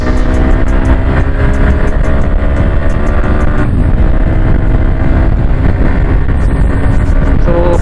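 A motorcycle rides at the start of a group ride, with loud, continuous engine roar and road noise close by, steady throughout and no talk.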